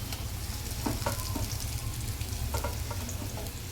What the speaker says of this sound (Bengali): পেঁয়াজটা ভাজা ভাজা হোক দেখো পেঁয়াজটা ভাজা হয়ে গেছে